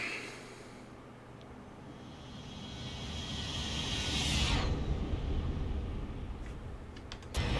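A Zibo 737 airliner makes a flyby in the X-Plane 11 flight simulator, a broad engine roar that swells to a peak midway and then fades with a whooshing tail, moderately loud with no talk.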